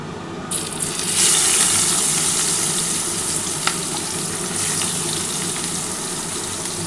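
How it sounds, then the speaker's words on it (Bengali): Chopped onions frying in the oil left over from frying bata fish, a loud steady sizzle that swells as they hit the pan and continues evenly, close up, with no talking. "যে তেলটা রয়েছে সেই তেলটার মধ্যে আমি কিন্তু প্রথমে কিন্তু পেঁয়াজটা দিয়ে দিচ্ছি"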